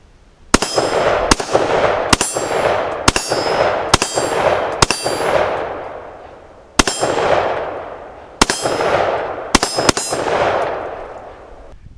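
Rifle rounds strike a half-inch AR500 steel target plate outdoors on a range: about eleven sharp, ringing metallic clangs arrive at irregular intervals, each hit decaying into a brief ring before the next.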